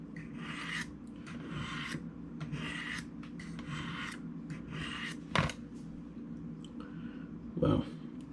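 A knife blade being sharpened on a Spyderco Triangle Sharpmaker: repeated rhythmic rasping strokes of steel sliding along the ceramic rods, about a dozen close passes, with a couple of sharper knocks, under a low background hum.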